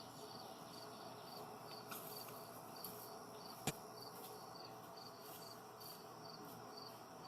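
Crickets chirping in a steady, rhythmic pulse at night, faint and continuous with a brief click partway through; no talking.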